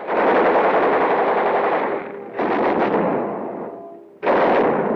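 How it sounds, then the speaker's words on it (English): Machine guns test-fired by WW2 US Marines ahead of the Tarawa landing, sustained loud automatic bursts roaring continuously with two short lulls before firing resumes, no voices. "Check and test fire all weapons."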